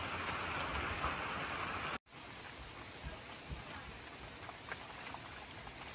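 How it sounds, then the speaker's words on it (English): Rain falls on a front yard as a steady, even hiss of drops on surfaces. It briefly cuts out, then resumes at a similar moderate level with scattered heavier drops. "hindi na masyadong pouring ang rain. Pero at least, ano pa din, umuulan pa din siya."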